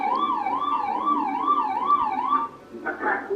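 A wailing warning siren rises and falls in a regular cycle of repeated sweeps, loud and steady, then breaks into shorter tones near the end.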